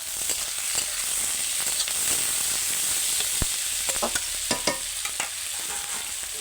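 Chopped onions and tomato frying in a pan while being stirred, giving a continuous close sizzle broken by several sharp scraping strokes of the spatula.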